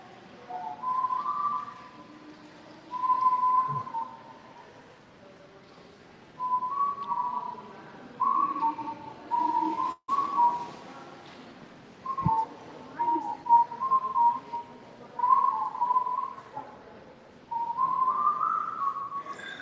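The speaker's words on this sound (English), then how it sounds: "That guy whistling is annoying the shit out of me." A man whistles a wandering tune in short repeated phrases, fairly close, over quiet background noise in a theme-park shopping area seating space, with a few brief clicks and pauses between phrases.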